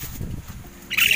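Pet birds chirping during an outing in Santa Ana, Cagayan, a brief burst of bright tweets rising loudly at the end after a stretch of low background murmur.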